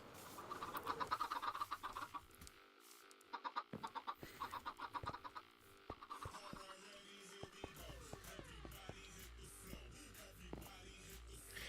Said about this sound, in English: That should be enough chickens.